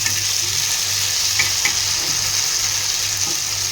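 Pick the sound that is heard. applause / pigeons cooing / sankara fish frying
sankara fish frying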